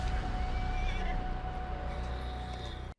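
A police horse whinnies loudly in a game reveal trailer for The Division 2, its neigh rising over a dense, busy backdrop of ambient noise and faint hoof clatter, with no talk.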